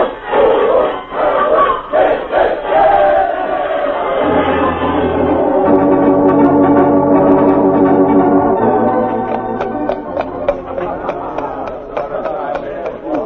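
A small radio-drama group gives a rousing cheer for the New Haven team, voices shouting together in a loud, sustained burst with a clanging, rhythmic edge and music swelling underneath.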